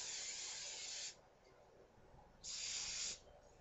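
Two bursts of Aqua Net hairspray misted onto a synthetic wig, each a steady close hiss lasting about a second, separated by a short quiet gap.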